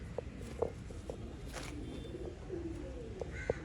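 Pigeons of an old line breed coo softly in short repeated calls spaced through the clip, faint and fairly close over a low murmuring background, with light shuffling sounds and no clear speech.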